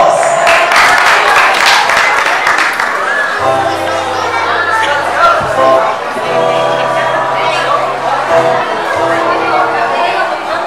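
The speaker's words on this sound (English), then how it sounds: "Let's all welcome them with a round of applause!" Guests at a child's seventh birthday party applaud and cheer to welcome a band, with clapping mixed into crowd chatter and a sustained musical tone underneath.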